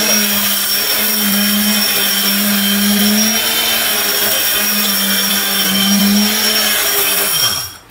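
A powerful blender whirs loudly and steadily at close range, its motor droning at a constant pitch before winding down at the very end.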